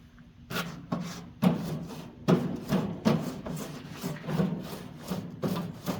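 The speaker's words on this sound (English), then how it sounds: "let them get hot while I brush them off and get them clean" Wire brush scrubbing hot outdoor grill grates, rhythmic rasping strokes repeated about every second, loud and close with no talking.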